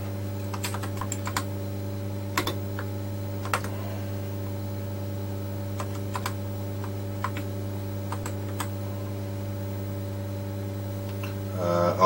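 Sporadic keystrokes on an RM 380Z computer keyboard click in irregular bursts over a steady electrical hum, close and fairly quiet, with a denser flurry of key presses at the end and no talking.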